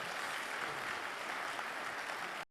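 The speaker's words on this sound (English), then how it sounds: "Can we please clap for the Dean as she comes up?" A crowd at an award ceremony for Peter Obi applauds as the Dean comes up, producing steady, dense, faint clapping without a break that cuts off abruptly after a couple of seconds.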